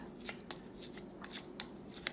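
A small deck of only four cards is shuffled by hand, producing soft, close, irregular papery flicks spaced a fraction of a second apart, with no other sound.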